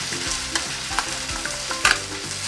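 Cornflour being stirred into hot water in a pan for homemade paneer tikka masala, a steady scrape of spoon against pan with light sizzling underneath and a few sharper knocks, close and moderately loud with no talking.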